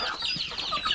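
Native chickens clucking on a small farm, a busy mix of close, overlapping high clucks and peeps from several birds over about a second.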